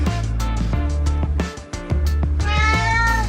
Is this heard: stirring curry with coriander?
no